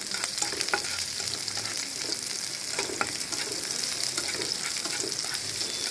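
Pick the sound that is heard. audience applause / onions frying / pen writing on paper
onions frying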